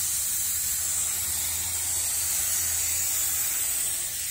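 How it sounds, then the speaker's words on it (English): A steady hiss of activator being sprayed onto carbon hydrographic transfer film, continuous and fairly close, with a low hum underneath and no talking. "So I'm going to go ahead and spray this."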